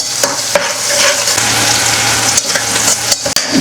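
Sun-dried manathakkali berries fry in hot oil with a steady, loud crackling sizzle, broken by sharp pops and a few stirring scrapes over about three and a half seconds.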